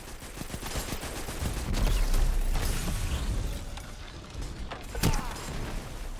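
A solar grenade erupts in the Destiny video game amid a rattling firefight: a rumbling blast swells in the middle, with sharp shots and bursts around it and another crack near the end.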